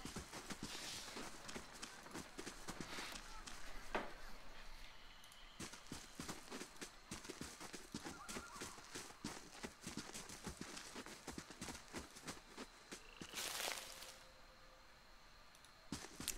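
Horse hooves clip-clop across the ground in the fantasy role-playing game Pillars of Eternity, a steady run of clattering steps with music and game ambience underneath.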